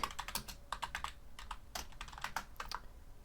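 Keys clatter on a computer keyboard in quick, uneven bursts of separate clicks, close and fairly quiet, with no talking.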